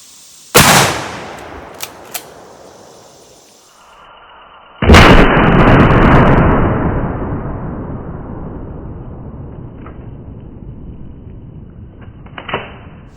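Shotgun loaded with 3.5 inch number 4 buckshot firing at water bottles: one sharp blast, a pause with faint clatter, then a second loud report with a long decaying rumble outdoors.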